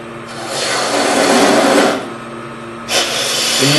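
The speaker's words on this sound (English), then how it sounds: "It's easier to fit a spindle gouge into a tight spot, so I'm going to use that" A spindle gouge cuts a bead on spinning wood on a lathe, giving two scraping, hissing passes over a steady motor hum, close and fairly loud.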